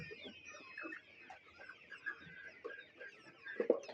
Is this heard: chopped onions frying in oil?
no